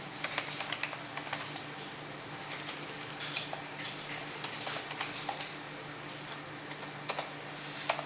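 A computer keyboard clicks under steady typing, with irregular close keystrokes and a few louder taps over a faint constant background hum.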